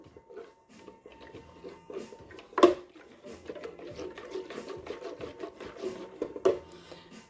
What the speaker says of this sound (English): Give this a good stir.